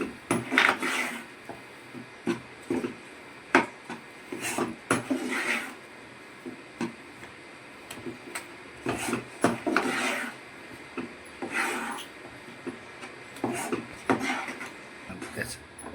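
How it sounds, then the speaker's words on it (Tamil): A spoon rasps and scrapes in rhythmic strokes against a pan as thick pottukadalai halwa is stirred. The scraping is close and uneven, and a voice talks over parts of it. "நல்லா கிண்டணும் நல்லா கிண்டணும்"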